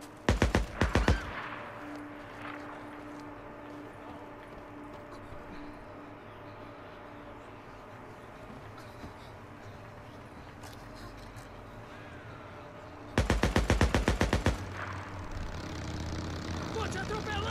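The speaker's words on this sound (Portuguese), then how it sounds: "Ele tá atirando." Enemy gunfire in Days Gone, rapid bursts of automatic shots at the start and again later, loud against a steady background of game ambience and engine rumble.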